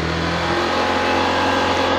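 A Honda Vario 125 scooter engine, hot and with an idling-stop fault, revs steadily at high speed, a continuous loud mechanical whine with a low hum, close by and without pauses.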